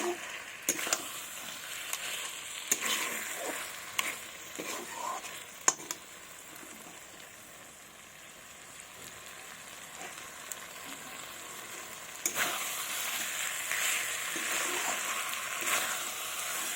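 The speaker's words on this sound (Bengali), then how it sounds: "আমি আবারও একটু তেল দেবো এখন ভালোভাবে আরও কষাবো" Mutton sizzles and fries in oil in a pan while being stirred, giving a steady crackling hiss broken by scraping stir strokes. The sizzle swells louder near the end.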